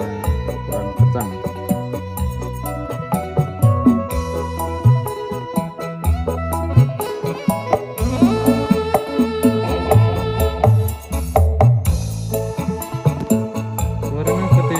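An instrument played through a cloned Peavey KB300 preamp with mid boosted for a thicker tone, a loud continuous passage of plucked low notes and sustained chords with a busy, rhythmic feel.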